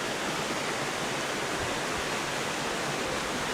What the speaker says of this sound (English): Look at that lovely cascade waterfall coming through